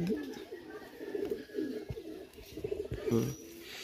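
Pakistani high-flyer pigeon cooing up close, a series of soft, throaty rolling coos repeating unevenly over a quiet background.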